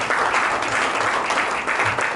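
A large audience at a branch chairman's investiture ceremony gives a loud, sustained round of applause, a thick steady wash of clapping close by with no speech over it.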